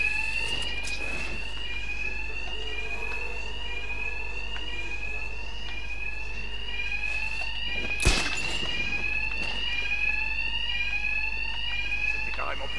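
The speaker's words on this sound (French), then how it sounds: "Comme tout à l'heure, ces malfrats sont assourdis par les alarmes." Alarms ringing in the video game Batman Arkham Knight, a loud, continuous repeating electronic siren that runs through the whole stretch with a brief thud partway through.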